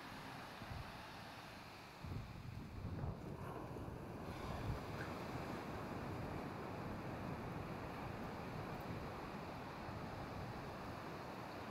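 Ocean surf rolls in continuously on a beach at Pulau Bai, a low steady roar of breaking waves mixed with wind buffeting the microphone.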